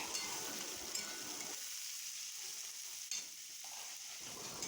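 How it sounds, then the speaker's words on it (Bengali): Chopped onion frying in a pan with a soft, steady sizzle, broken by faint scraping as it is stirred, quiet and close with no voices. "পেঁয়াজটা দিয়ে ভালো করে নাড়াচাড়া করে ভেজে নেবো পেঁয়াজটাকে"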